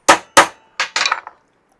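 Metal punch struck with a hammer to dent the inner grill of a hibachi barbecue being restored: two sharp, loud clangs followed by a quicker cluster of lighter metallic taps, close up with no talking.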